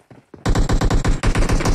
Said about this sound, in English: I thought those gunshots were gonna be for him, but instead, right now he's getting shot at